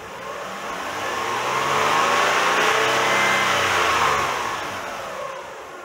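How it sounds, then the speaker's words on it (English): Toyota Highlander with a 1MZ-FE V6 engine, troubled by oil sludge, revving up in one smooth sustained rise that climbs, holds loud for a few seconds, then eases back down, with no talk. "Let's go see what happens if we rev up the engine a little bit."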